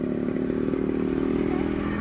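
An RX motorcycle engine runs steadily during a ride, a loud, close, continuous low drone with a constant rumble and no talking.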